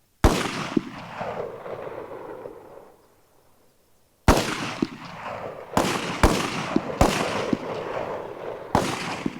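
Soldiers fire rifles at targets on an army range near Nagarparkar, a sharp close shot with a long echoing tail, then after a pause a run of five more spaced gunshots.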